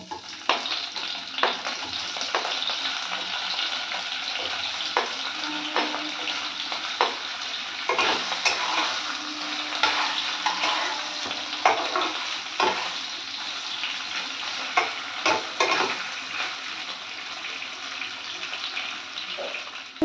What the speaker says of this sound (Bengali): আমি পনিরটা ভেজে নেব আগে